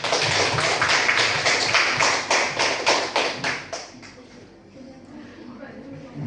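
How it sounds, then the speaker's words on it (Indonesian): A small group at a meeting applauds with a quick run of hand claps that thins out and stops after about four seconds, leaving a quiet room. "silakan berikan tepuk tangan"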